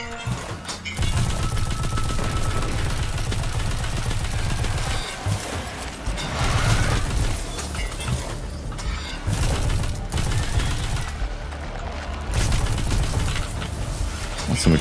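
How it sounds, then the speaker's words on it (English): Continuous gunfire and explosions in the video game Destiny 2, dense rapid shots and booming blasts filling the scene loudly with almost no pause. "Some explosions, man."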